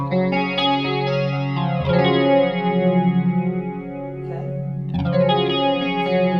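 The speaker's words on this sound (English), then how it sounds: "let's have a listen first of all to the Hartman Flanger" A guitar runs through a Hartman Flanger pedal, sustained chords sweeping with a swirling, jet-like whoosh that rises and falls, loud and alone.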